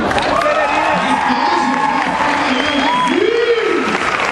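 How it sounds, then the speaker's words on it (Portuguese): Crowd at a festa junina quadrilha event applauding and cheering loudly and steadily, with shouts and voices mixed in and a crowd voice rising near the end. "merece palmas bem fortes, galera."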